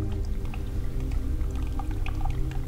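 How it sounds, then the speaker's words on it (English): Water running down a wall inside an abandoned subway tunnel beneath Cleveland's Detroit-Superior Bridge, a steady burbling trickle with scattered drips over a constant low rumble, close and continuous. "There's some water running down this wall, and it's making this interesting burbly noise."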